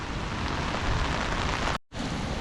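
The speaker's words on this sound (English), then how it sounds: "So the rain continues to pour down and the river levels can only get higher." Heavy rain pours down during a cyclone, a dense steady hiss of downpour close by, briefly cut to silence near the end before resuming.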